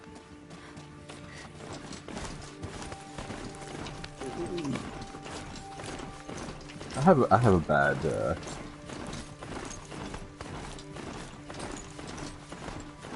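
In the Horizon Zero Dawn video game, a mount's hoofbeats clop in a steady rhythm alongside mechanical clanking and whirring, with a louder burst midway and a player talking throughout.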